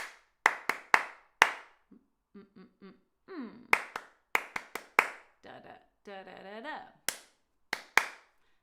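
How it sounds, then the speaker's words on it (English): Sharp hand claps tap out a short rhythmic pattern during a live sing-along session. The bursts come in quick groups separated by pauses, and a voice sings the rhythm back in syllables. "So I'm going to clap a rhythm, you're going to clap it back"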